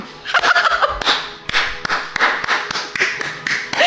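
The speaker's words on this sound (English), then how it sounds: "I'm clapping for myself, too. I'm doing a slow clap moment." Hands clap a slow series of distinct claps at a loose rhythm while a voice makes playful, warbling vocal sounds over them.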